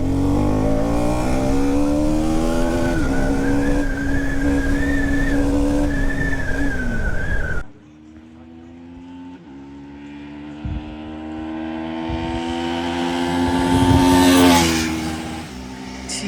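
A KTM Duke 250 Gen 3 motorcycle engine runs loud and close, holding a steady note before a sharp drop, then revving and rising again through the gears before easing off.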